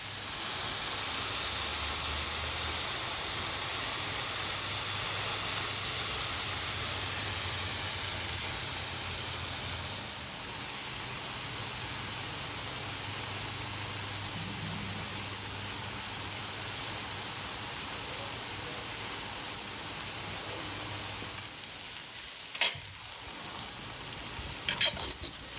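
Sausage sizzles in a restored cast iron WagnerWare divided skillet with a steady, close, even hiss of frying that holds for the whole stretch, broken by a few light knocks of the pan near the end.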